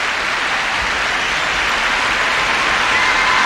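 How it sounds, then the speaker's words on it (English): A Tokyo figure skating crowd rises in a standing ovation for Evgeny Plushenko at the 2001 Grand Prix Final, a dense, steady roar of applause and cheering that fills the arena evenly throughout. "a standing ovation here in Tokyo"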